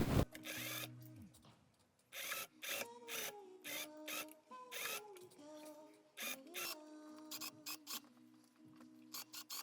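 A sewing machine stitches the skirt of a princess dress in short, stop-and-start runs of whirring, with the motor pitch rising and falling between bursts, fairly close and moderately quiet.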